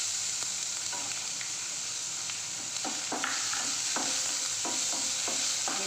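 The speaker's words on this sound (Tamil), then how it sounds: "இது கொஞ்சம் வதங்கணுங்க சின்ன வெங்காயம்." Small onions fry in oil with urad dal, a steady close sizzle with a spoon scraping and stirring through the pan in repeated strokes, no voices.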